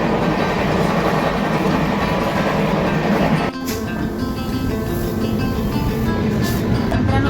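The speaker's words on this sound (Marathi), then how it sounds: "लातूर तोडल्यानंतर काय जबरदस्त आपली ट्रेन पळाली आहे" A passenger train on the Latur to Bidar line in India rolls along with a loud, continuous rumble and rattling wheel clatter, the sound shifting briefly midway.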